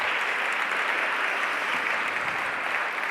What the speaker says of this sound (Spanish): faltaría un aplauso para ese